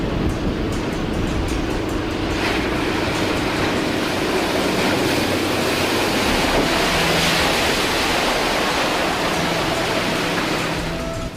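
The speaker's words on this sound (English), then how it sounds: "From calm, azure blue seas to life-threatening waves brought about by gale-force winds and powerful opposing currents." Ocean waves driven by gale-force wind at sea, with a loud continuous roar of surf and wind buffeting the microphone, rising slightly around the middle and running without voices.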